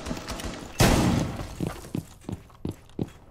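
Gunfire in Rainbow Six Siege, starting with a light patter, then a loud heavy blast, followed by a string of spaced single shots and thuds, close and punchy, with no voices.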